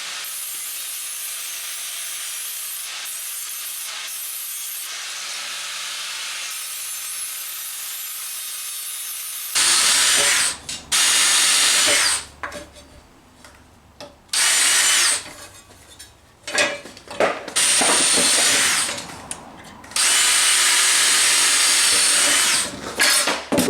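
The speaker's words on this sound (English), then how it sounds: "So just drill some holes in it and then drill it out?" Power drill boring holes into a 2x4 for a plywood skate ramp, a loud whining grind in several long bursts broken by short stops, preceded by a quieter stretch of steady hiss.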